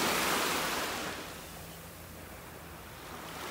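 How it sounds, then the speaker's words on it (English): Gulf waves break on a sandbar offshore at a beach in North Naples, Florida, a broad distant wash of surf that swells, fades, then rises again, with light wind and no talk. "That's the waves breaking on the sandbar out there."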